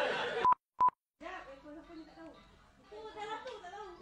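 Two short electronic mobile phone keypad beeps sound close and clear, one after the other, followed by someone talking.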